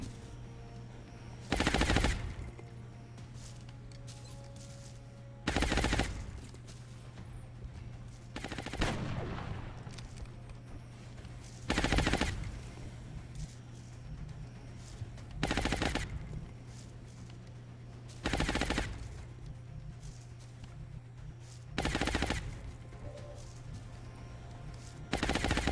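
Suppressing gunfire in the XCOM Long War video game: seven loud, evenly spaced bursts of automatic fire over a steady low hum, with quieter game ambience between bursts.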